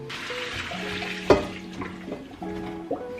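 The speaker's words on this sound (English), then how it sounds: "The shrimp are cooking right now" Shrimp frying in a pan, a moderate close sizzle with a few sharp clinks and stirring knocks over about three seconds, no talking.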